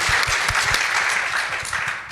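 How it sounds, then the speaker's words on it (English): Audience applause at an SXSW EDU 2023 conference session, a dense steady wash of many hands clapping that fills the room and tapers slightly at the end. "Round of applause for that."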